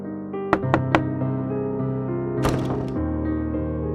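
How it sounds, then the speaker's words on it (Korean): Three sharp knocks on a guesthouse room door, then a fourth knock after a pause, set over a steady tonal drone with no talk. "그는 다시 203호 문을 두드렸습니다."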